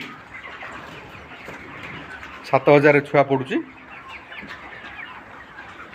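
Chickens in a 2500-capacity poultry farm shed cluck in a short, loud burst midway, over a steady background of birds, while someone talks throughout.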